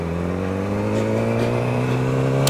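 A Yamaha R6 motorcycle engine drones steadily while being ridden, a loud, close, even tone with slight rises in revs and faint wind noise, no talking.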